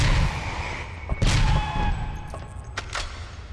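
Gunfire from the PlayStation 1 game Alien Resurrection, a few loud blasts with boomy low ends and sharp cracks spaced over a few seconds, under a dense background of game ambience.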